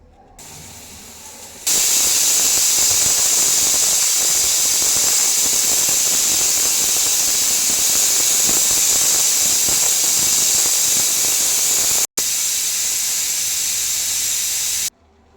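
A pressure cooker cooking drumstick and radish sambar whistles with a loud, continuous steam hiss that runs for many seconds, briefly cutting out before stopping.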